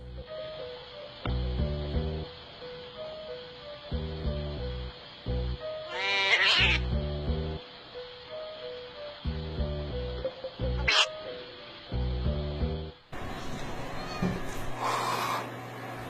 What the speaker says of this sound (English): cat's growling at him.